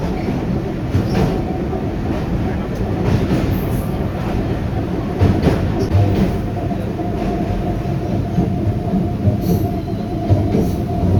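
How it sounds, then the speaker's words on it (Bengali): A crowded passenger train at Bali station rumbles loudly and continuously nearby, its wheels clattering with intermittent squeals and bursts of rattling, and no one speaking. "এই ট্রেনে যাব, কিন্তু ট্রেনে খুব ভিড়"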